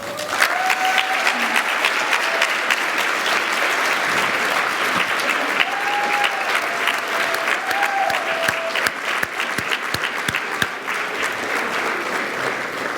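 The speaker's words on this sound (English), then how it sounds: "I know you're getting tired of clapping," A large audience at an education awards event claps steadily and enthusiastically, dense applause filling the room with a few voices and cheers rising faintly above it.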